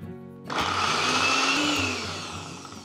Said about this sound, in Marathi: सगळ्यात आधी मिक्सरच्या भांड्यामध्ये पाव कप लसूण घ्यायचं आणि आधी याची ना छान पेस्ट करून घेऊयात